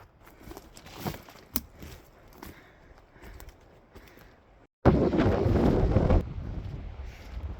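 Wind gusts buffet the microphone outdoors, with crunching footsteps early on, then a sustained loud roar of wind noise in the second half.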